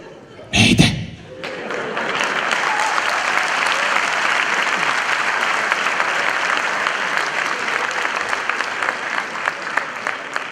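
Audience at a Balkan comedy show bursting into applause after a loud thump, then sustained dense clapping that carries on evenly to the end.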